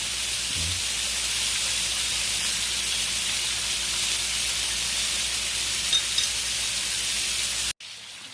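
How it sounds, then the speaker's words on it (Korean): Butter sizzles in a pan while abalone grills, a loud, steady, broad hiss that runs unbroken for several seconds before cutting off abruptly near the end. "버터구이니까 버터를 많이 넣어줘야죠."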